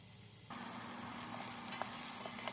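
Onions sauté for beef mechado, sizzling steadily in a hot pot with faint scraping from stirring. A quiet moment comes first, then the frying hiss starts and carries on close by without talk.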